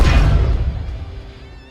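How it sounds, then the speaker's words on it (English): Medium explosion of a Covenant vehicle from Halo 4: a single loud, deep boom at the onset that rolls into a rumbling, crackling decay over under two seconds, heard alone. "Covenant Vehicle Medium Explosion."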